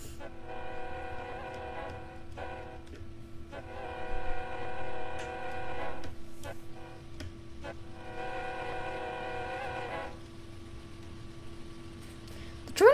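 A train passes with its horn sounding in several long sustained blasts, broken by short gaps, over a steady rumble of rolling wheels on the track, with a sharp click at the very end.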